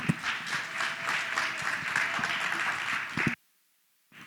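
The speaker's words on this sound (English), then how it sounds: "Please give them a round of applause." An audience at an education panel on re-imagining education gives a round of applause for the panel speakers, steady, full clapping for about three seconds that cuts off abruptly into silence.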